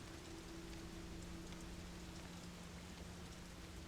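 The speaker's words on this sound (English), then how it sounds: "Rain is pounding the thin glass of the window." Steady rain drums on thin window glass inside a house in the horror game Fatal Frame 5, a constant soft hiss with a faint low hum beneath, no voices.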